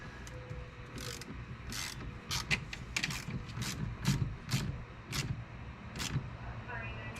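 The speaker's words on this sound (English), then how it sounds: "This one we can hit with the ratchet." A hand ratchet tightens the 12-volt battery cable terminal on a Toyota Prius, giving repeated close clicking strokes over low engine-bay background noise.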